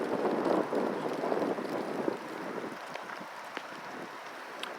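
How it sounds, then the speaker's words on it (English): Strong wind during a windstorm in Memphis, a steady broadband rush that is loudest at first and then eases, with light scattered knocks and no talk. "it's a windstorm"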